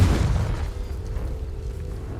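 The Confringo spell from Hogwarts Legacy explodes as a deep, booming blast that fades into a low rumble and a lingering hum.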